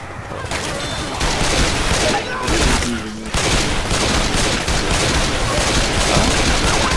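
Dense machine gun fire in the video game Left 4 Dead 2 rattles on loudly and almost nonstop, with a brief lull partway through, as a player talks over it.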